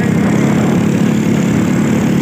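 A scooter engine idles close by, a steady, loud and continuous low hum with no talk over it.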